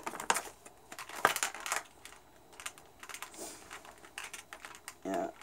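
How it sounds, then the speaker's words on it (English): Crinkling plastic packaging as an action figure is unboxed, a busy stream of crisp crackles and light clicking handling noises, close and fairly quiet, in irregular bursts. "I just hate the crinkling in the thing"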